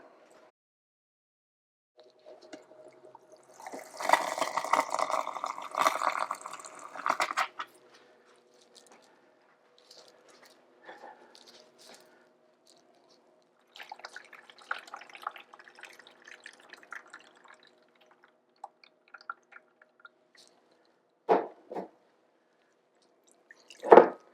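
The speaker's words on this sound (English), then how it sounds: "so I'm going to add some more water." Water pours into a shallow toning tray while cyanotype prints are toned in a kitchen, a splashing gush for a few seconds followed by quieter trickles, drips and small splashes, mostly without speech.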